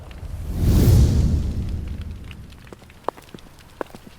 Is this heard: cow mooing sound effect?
no